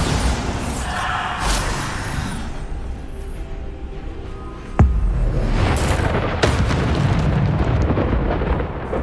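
A Bombarda blasting spell goes off in Hogwarts Legacy. A steady rumbling roar is broken midway by one sharp crack, and a louder, fuller burst follows and carries to the end.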